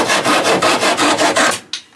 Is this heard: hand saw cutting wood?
yes